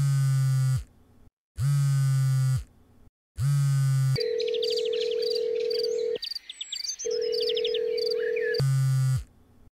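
A phone's ringback tone repeats several times with pauses, then a steady tone continues under chirpy electronic noise; nobody answers.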